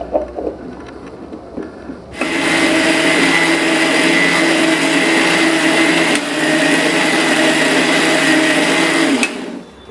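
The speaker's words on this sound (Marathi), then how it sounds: "ह्याचं मी आता मिक्सरला वाटण करून घेणार आहे" An electric mixer grinder grinds roasted whole spice masala for chicken gravy, starting abruptly after a quiet moment and whirring loudly and steadily for about seven seconds before cutting off.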